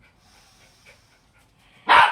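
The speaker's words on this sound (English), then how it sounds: "No barking." A dog indoors in a home gives a single loud, close bark at the end, after near silence.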